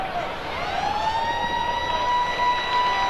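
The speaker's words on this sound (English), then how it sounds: "Siren in the background." A wailing siren sounds steadily in the distance, its tone sliding up and holding, beneath a continuous noisy rugby league stadium background, marking the end of the half.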